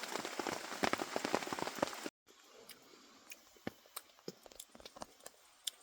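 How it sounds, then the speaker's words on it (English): Rain patters steadily onto a tarp at a campsite on the Appalachian Trail, dense and loud at first, then after a brief gap continuing as sparser, distinct drips and taps over a soft hiss. "hopefully it stops raining soon"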